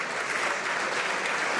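Members of Canada's House of Commons clap together during Question Period, a dense, steady burst of applause filling the chamber evenly for under two seconds, with no speech over it.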